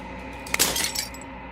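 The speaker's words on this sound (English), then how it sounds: "As the final fragment of glass shatters" Glass shatters in the video game Elden Ring: a single sharp, bright break with scattered tinkling fragments over a steady low background hum, heard alone and close.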